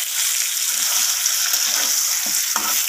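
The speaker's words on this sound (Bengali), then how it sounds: "পটলগুলো অনেকটা লাল লাল হয়ে ভাজা হয়ে এসেছে" Pointed gourd (potol) pieces fry in hot oil, browning in a pan, giving a steady, close, dense sizzle that holds at an even level throughout with no talking.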